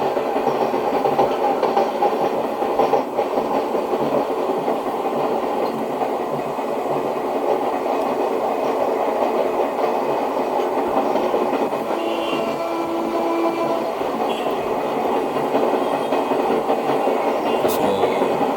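WAP-4 electric locomotive hauling the MS-VM passenger train between Tambaram and Chengalpattu in Indian Train Simulator, a steady, loud rolling rumble with wheel clatter running throughout, no talk.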